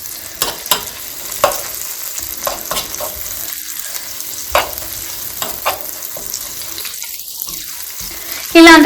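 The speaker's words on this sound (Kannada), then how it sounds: "ನಾನಿಲ್ಲಿ ಮಸಾಲಾನೇ ಹಾಕಿ ಫ್ರೈ ಅಂದರೆ ಮಿಕ್ಸ್ ಮಾಡ್ಕೊತಾ ಇದ್ದೀನಿ ಇವಾಗ ಬಟರ್" Pav bhaji masala frying in butter in a pan while being stirred, with a steady close sizzle broken by scraping spoon strokes and brief splashy clatter near the end.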